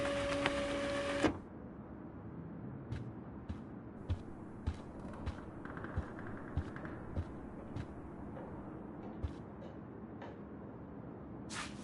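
3D printer running in a dorm room in the video game Life is Strange, a steady mechanical whir with repeated small clicks and taps after a brief louder sound at the start, no talk.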